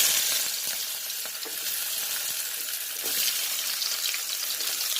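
Chopped onion and curry leaves fry together in a pan, producing a steady, bright sizzle that swells slightly as they settle into the oil.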